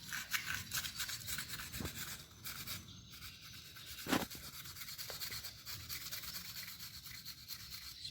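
Quiet, rhythmic scratchy rubbing of sandpaper on an air rifle part, repeated strokes close by with a few sharp knocks.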